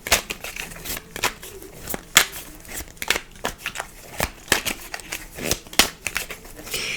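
Fortune-telling cards are shuffled and drawn in a run of sharp, crisp slaps and riffles, repeated irregularly at close range, with no voice over them.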